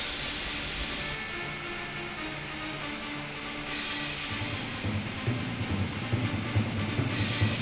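A train rumbles steadily through the ending sequence of the 1995 video game Alone in the Dark 3, a continuous low mechanical drone with hiss, growing slightly rougher toward the end.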